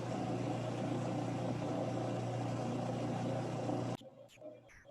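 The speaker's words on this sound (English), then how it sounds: "So I now have the motor under load." Electric motor driven by a variable frequency drive and running under load, a loud steady hum with a strong low tone that holds for about four seconds, then cuts out abruptly, leaving faint clicks and rustles.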